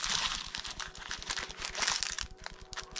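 Plastic packaging crinkling and crunching as a set of 52 mm camera lens filters, including twisting gradient filters, is unwrapped by hand; close, busy rustling throughout with no talk.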